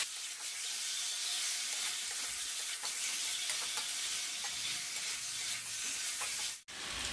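Potato and papaya being stirred into a curry in a hot pan, a constant loud sizzle and hiss with faint scraping of the spoon, then a sudden brief drop near the end, no voices.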